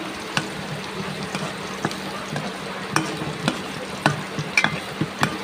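Onion, garlic, bay leaf, black cumin and fenugreek fry in oil, a soft continuous sizzle broken by repeated scraping stirs and light spatula taps, close and fairly quiet, with nobody speaking.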